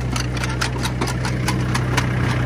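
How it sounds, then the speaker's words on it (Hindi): A 265 DI tractor on 12-inch tires, sowing potatoes in a field, runs at a steady loud idle with a low drone and a quick regular ticking beat throughout. "265 डी आई ट्रैक्टर हैगा"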